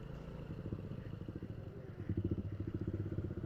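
A motorcycle ridden across the sand sea at Mount Bromo, its engine putting out a steady, rough, pulsing drone that grows louder partway through.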